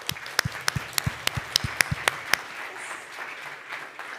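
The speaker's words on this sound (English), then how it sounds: "please join me in applauding them once more" Applause from an audience at an award ceremony: a run of sharp, separate claps over a steady crowd patter, thinning out and fading over a few seconds.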